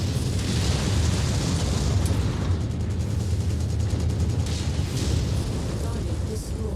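A destroyed mech explodes in the MechWarrior video game, a loud, sustained rumbling blast with crackling bursts that roars continuously for several seconds under a voice.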